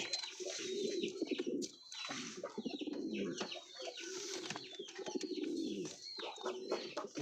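Several pigeons coo continuously in soft, throaty, rolling calls that overlap one another, with a few light chirps mixed in.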